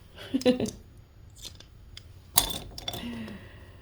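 Seam ripper snipping stitches out of a pins-and-pincushion quilt block: a few small sharp cutting clicks, one cluster early and a louder snip later, with faint rustling of fabric between and a voice talking softly.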